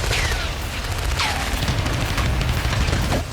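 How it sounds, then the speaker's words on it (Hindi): Gunfire between fighters and Israeli soldiers in the West Bank, dense overlapping shots and booming cracks with a few whistling sweeps, steady and loud throughout. "फायरिंग से वेस्ट बैंक का आसमान थर्रा उठा।"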